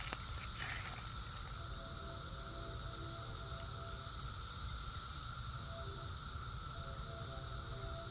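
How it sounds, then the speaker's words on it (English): Brood XIII periodical cicadas in Northern Indiana in 2024 give a faint, steady, even drone, distant and continuous with no voices over it. "There's one more cicada down there."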